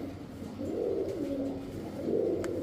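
Pigeons coo in low, rounded, repeated phrases, close by, with several birds overlapping in a steady murmur. The birds are fancy breeds kept for sale, including Damascene, Budapest, silver, Gola, Chila and racing pigeons.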